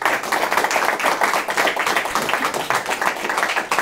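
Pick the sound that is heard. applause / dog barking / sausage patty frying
applause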